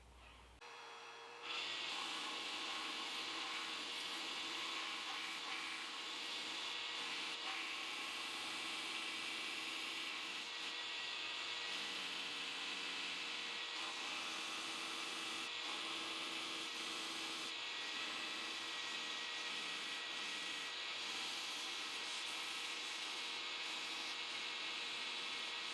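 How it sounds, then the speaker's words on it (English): A belt grinder with a coarse 36 grit belt grinds down a spalted maple knife handle scale, giving a steady, loud abrasive roar with a constant motor whine that runs without a break. "I'm going to use a 36 grit belt and just hog off this extra material"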